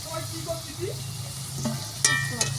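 Vegetable and capsicum chops sizzle steadily in hot oil, frying until reddish, with a few scraping stirs and clinks of a utensil against the pan, close up.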